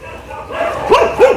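Several dogs bark at an animal shelter: two sharp, close bow-wow barks with a yip, loud over a murmur of background noise and chatter.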